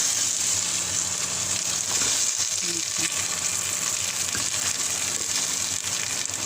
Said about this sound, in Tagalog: So, iprito na natin ang pork tenderloin.